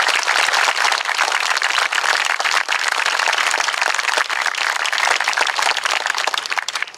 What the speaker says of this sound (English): Won't you please give them a round of applause?